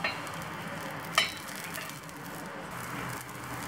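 A black urad dal dosa sizzles on a hot pan just after flipping, a steady soft frying hiss with a brief clatter near the start from the turn.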